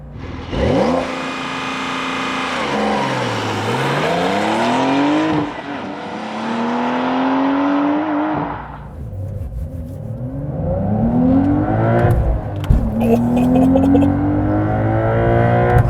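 A 2023 Porsche 911 Carrera T with a 3-liter twin-turbo flat-six and manual transmission accelerates hard, its engine note rising loudly through the revs, dropping at a gear change, and climbing again through further shifts, heard from inside the car.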